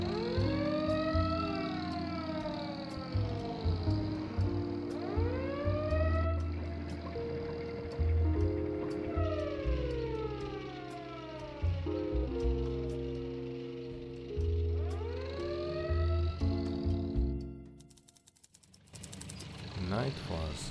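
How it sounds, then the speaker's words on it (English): Police car sirens wail in repeated rising and falling sweeps during the Sanatorium asylum simulator game, several overlapping and fairly loud, over a low droning background before cutting away near the end. "Night falls as police cars descend up on the sanatorium."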